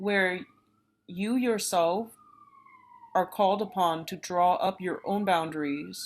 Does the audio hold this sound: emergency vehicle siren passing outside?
yes